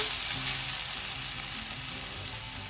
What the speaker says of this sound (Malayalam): എല്ലായിടത്തും ഈ മസാല വരത്തക്ക രീതിയിൽ ഒന്ന് ചെറുതായിട്ട് ഇളക്കി കൊടുക്കുക